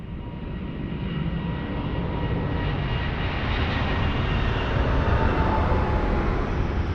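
Airbus A320neo family airliner taking off at Lisbon Airport, a continuous broadband jet roar that swells gradually over several seconds, heard at a distance and steady without any speech.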